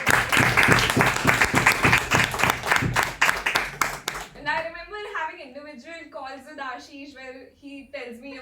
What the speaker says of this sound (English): Let's give a big round of applause for him also.